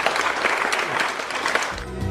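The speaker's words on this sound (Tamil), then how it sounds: "ஒரு பெரிய கைத்தட்டம்" An audience at an agricultural technology program applauds in a short, dense burst of clapping that fills the moment before a lower sound enters at the very end.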